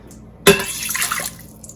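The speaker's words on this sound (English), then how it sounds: "I'm adding 1 cup of water to my Instant Pot" A cup of water is poured into an Instant Pot in a home kitchen. A short splashing gush starts abruptly, runs for under a second and then trails off.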